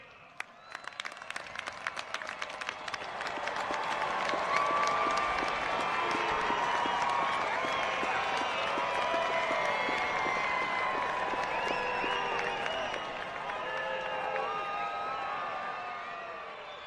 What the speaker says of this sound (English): give a round of applause to your families